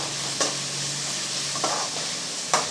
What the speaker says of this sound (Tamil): இப்போ இது கூடவே ரெண்டு பெரிய சைஸ் தக்காளி பொடியாக கட் பண்ணி வச்சுருக்கேன் அதையும் சேர்த்துடலாம் சேர்த்து நல்லா வதக்கி விட்டுறலாம்